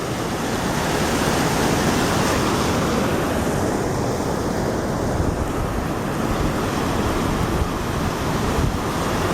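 Steady, loud roar of water rushing over a dam on the St. Joseph River in South Bend, Indiana, a continuous broadband wash with wind buffeting the microphone and no talking.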